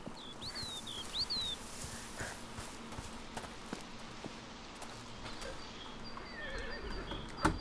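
Horses in the video game A Plague Tale Requiem, with a few high whinnying calls early on and faint hoof clops scattered over a calm outdoor ambience, heard alone with no talk.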